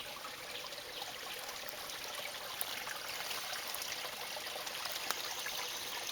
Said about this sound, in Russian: Ток воды хороший.